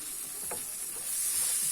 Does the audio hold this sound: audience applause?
no